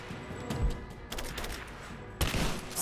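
Gunfire in Rise of the Tomb Raider as mercenaries shoot, a few sharp close bursts and cracks over a noisy game backdrop, with no talking.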